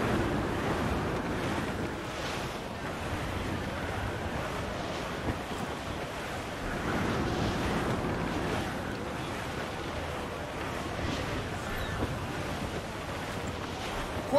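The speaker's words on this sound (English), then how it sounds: "Despite the squall picking up" Wind and surf roar from a squall at sea, steady and full with swelling gusts and crashing waves, in the pirate game Assassin's Creed IV: Black Flag.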